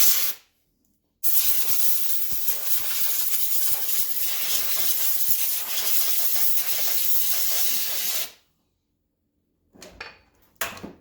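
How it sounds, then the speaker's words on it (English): A long, loud hiss of aerosol spray on a 2001 Honda CBR F4i motorcycle runs for about seven seconds, close up, then cuts off; a brief second burst follows near the end. "Spray."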